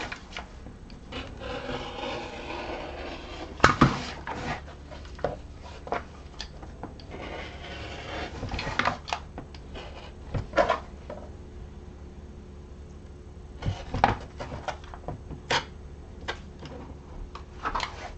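Scissors snip and rub along sewing interfacing on front slip pocket pieces for a Neo crossbody bag, a run of soft, close cutting and rustling strokes with brief sharper snips and pauses, no talk.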